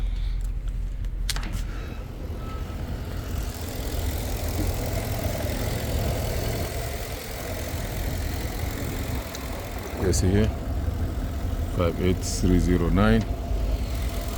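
A 2011 Lincoln Town Car engine idles with a steady, low, continuous hum, while someone talks over it throughout.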